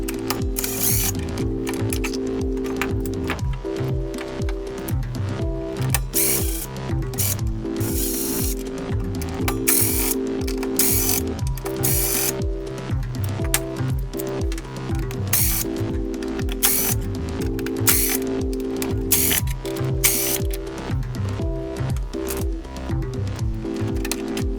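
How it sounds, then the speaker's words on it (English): Torx bits unscrew the handle assembly of a DeWalt miter saw, giving a continuous dense mechanical ratcheting with a steady whirring hum and rapid clicks, loud and close with no talking. "I'm going to open up this handle assembly using T20, T25, and T30 Torx bits."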